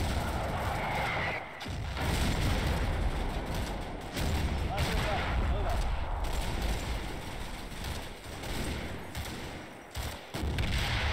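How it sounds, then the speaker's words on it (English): A high-explosive mortar barrage in the World War II tactical video game Combat Mission, with continuous dense rumbling blasts and crackling explosions, loud and sustained with brief dips. "I've also called in a mortar barrage of HE together with the smoke."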